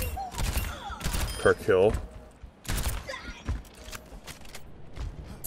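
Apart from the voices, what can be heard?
Baptiste primary fire at fastest rate, Overwatch video game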